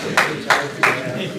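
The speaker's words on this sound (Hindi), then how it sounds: "तालियां बजा दो।" Audience applause at the UK inauguration of Saleem Sheerazi's poetry book "Ballay Jaan", arriving as three short, sharp bursts of clapping that rise and fall quickly over a murmuring room.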